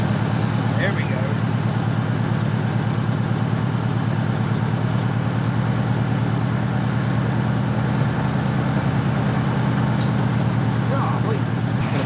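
A junkyard 1966 Ford Mustang V8, revived after decades, idles steadily with a low, even throbbing rumble that holds constant and nearby for the whole stretch, with no talk over it.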